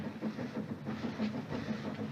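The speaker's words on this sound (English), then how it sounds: "Train's coming, Mom. Just heard her whistle for the station." A train arrives at a small country station with a low, pulsing rumble and rhythmic clatter of wheels, faint and steady under no speech.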